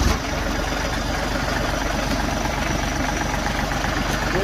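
A John Deere 3032E series compact tractor engine runs at a steady low idle close by, a rough continuous diesel throb with even rhythmic pulses.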